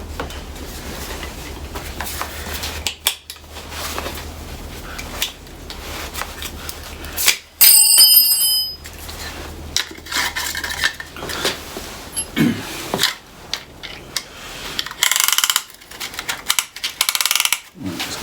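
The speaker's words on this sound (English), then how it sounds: "Let's get the piston ring compressor on." Metallic clicks, taps and ratcheting clatter come from fitting a piston ring compressor onto a Porsche 928 piston, with irregular close-up bursts over a faint hum.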